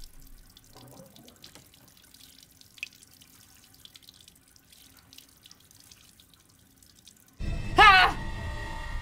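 A bloody ring is washed in Resident Evil Village. The quiet scene with faint voice sounds gives way to a loud burst of running tap water near the end.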